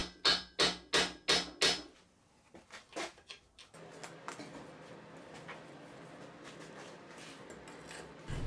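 Hand sawing to deepen a cut in a part of a 2-litre AC engine being dismantled: a run of loud, evenly spaced rasping strokes that fade into softer, scrappier scraping and a steady low grind near the microphone.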